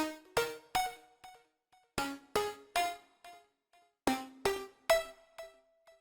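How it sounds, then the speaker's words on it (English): Synth pluck preset named Midnight for future house and bounce: clusters of sharp, bright plucked notes in a syncopated riff, each note decaying quickly with short echoing tails, fairly quiet and with no voices. "Plug Midnight is really unique and sounds like this."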